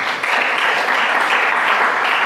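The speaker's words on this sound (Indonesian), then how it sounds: "Tepuk tangan dulu" An audience of students claps together at a school talk, making a loud, dense, steady burst of applause that lasts the whole stretch with no voices over it.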